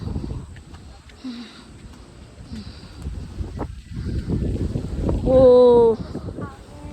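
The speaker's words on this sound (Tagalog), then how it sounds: "Lakas ng hangin." Strong wind on Mt. Brigino buffets the microphone with a low, steady rumble, while people talk and call out briefly nearby.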